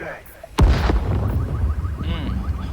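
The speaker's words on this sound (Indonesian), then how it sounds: "Meledak satu gedung, dua gedung guys, tiga gedung, waduh" Buildings blow up in Watch Dogs Legion during Operation Westminster: a sudden loud blast followed by sustained roaring rumble and debris noise, with a further burst near the end.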